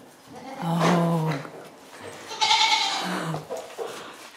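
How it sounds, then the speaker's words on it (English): Two goats bleat up close in a barn, each call a drawn-out wavering cry, one after the other with a short pause between. "Happy little goats."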